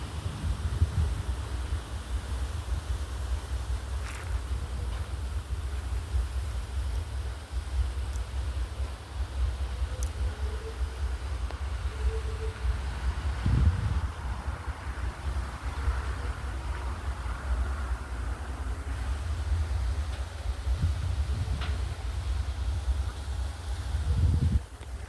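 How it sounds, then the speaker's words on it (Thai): Strong wind during a storm buffets the microphone with a constant low roar and rumble, occasional heavier gusts thumping through, sustained for the whole stretch with no one speaking. "วันนี้ลมแรงมากครับวันนี้"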